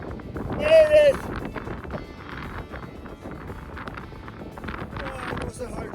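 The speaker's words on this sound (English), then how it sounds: "And it's so windy here." Gusty wind on a mountain pass along the Pamir Highway buffets the microphone, with a strong rush early on and rougher gusts continuing throughout.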